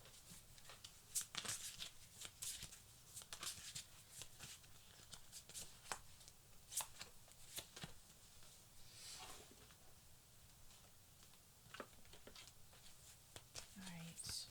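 Cards are shuffled close up in quiet, quick riffles and soft flicks, a string of crisp little bursts at low volume.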